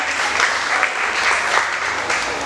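Dense, loud applause from an audience at a French-language quiz contest, steady clapping over the whole stretch with no voices standing out.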